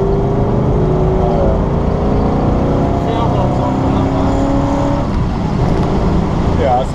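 A 1968 Ford Mustang GT/CS California Special with a big-block engine and 4-speed revs hard, its loud, close engine note climbing and sliding in pitch, while voices talk over it.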